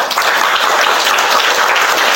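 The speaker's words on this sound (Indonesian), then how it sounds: "Kita tepuk tangan dulu untuk kalian semua." Loud, dense applause from a school gathering in Indonesia, steady and close, with many hands clapping together without a break.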